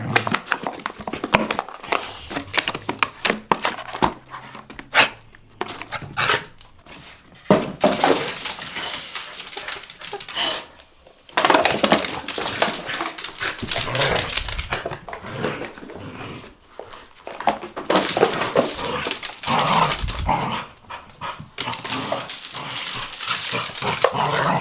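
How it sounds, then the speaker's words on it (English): A dog barks, growls and whimpers outdoors beyond an open door, the sounds recurring loudly and irregularly throughout. "The dog's out there somewhere barking at"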